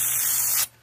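An airbrush sprays silver paint over a pearl white base coat on a threadfin shad fishing lure, giving a steady close hiss that cuts off sharply near the end.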